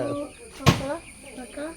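Native chickens on a small poultry farm cluck softly nearby, with one sudden burst that may be wing flapping midway. A voice may be faintly present.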